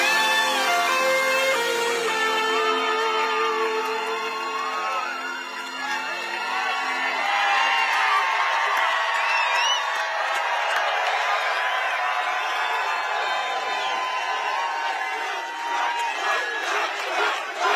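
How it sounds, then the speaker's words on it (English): A large crowd at a Trump rally in Iowa for America's 250th anniversary celebration cheers and whoops loudly and continuously, roaring as music fades out at the start. "What a crowd."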